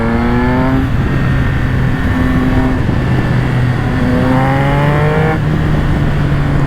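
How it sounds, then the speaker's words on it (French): A Triumph Speed Triple 1200 RS motorcycle engine drones loudly close by, with revs falling and rising through quickshifter downshifts in repeated swoops, and no talk over it. "Oh mais le shifter down, mais quel régal."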